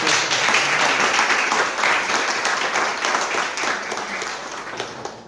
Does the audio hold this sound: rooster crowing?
no